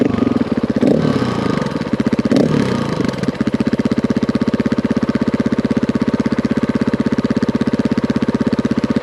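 A KTM 500EXC-F dirt bike engine runs loud and close, with a couple of quick rev surges before settling into a fast, even, thumping beat.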